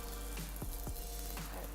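Burger patties frying in a pan give a steady, fairly loud sizzle with a few short crackling pops throughout.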